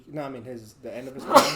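A single sharp sneeze bursts out near the end, loud and close, following a stretch of casual male conversation about football players.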